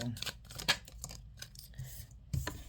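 Close, crisp riffling and slapping of tarot cards being shuffled, in quick irregular bursts with short pauses between.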